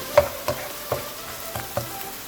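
Curry leaves and spices frying in a pan for a chicken white qorma, a soft steady sizzle with about six gentle stirring scrapes at irregular intervals, close and fairly quiet.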